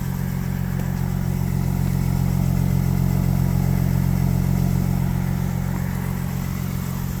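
Engine of a 2018 Jaguar F-Type idling after a cold start in 12-degree weather, a steady, close, loud low rumble with a faint clattery texture that holds evenly throughout.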